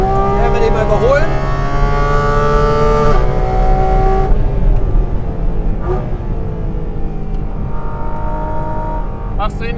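Porsche Cayman GT4 RS with the Manthey Racing Kit, engine droning loud and close with strong harmonic tones during an overtake, the pitch shifting and easing partway through.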